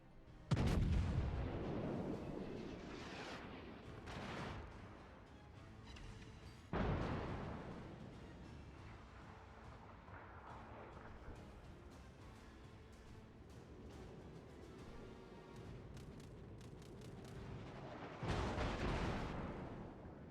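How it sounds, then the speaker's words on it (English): Ship secondary guns in the World of Warships naval combat game fire several heavy booming rounds, loud bursts spaced irregularly over a constant low background rumble. "secondary guns are actually in range now"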